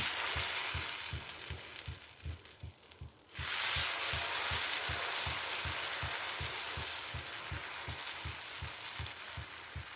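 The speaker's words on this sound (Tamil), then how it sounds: "இப்போ நம்ம தோசை ஊற்றலாம். அதில் கல் நல்லா காஞ்சிருக்குது." Oats dosa batter sizzles loudly on a hot griddle, a steady broadband hiss that thins briefly near the start and then surges back, with a regular low thumping pulse running underneath throughout.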